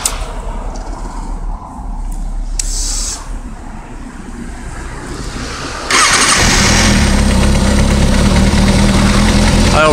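2007 Kawasaki ZX-6R sport bike, quiet handling noises and a brief starter whir, then the engine catches and settles into a loud, steady, close idle.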